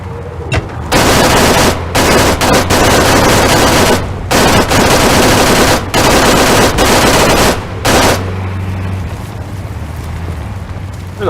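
Heavy automatic gunfire opening up in a video game, several long loud bursts of rapid shots separated by short pauses, close and dominant, ending with quieter ambience.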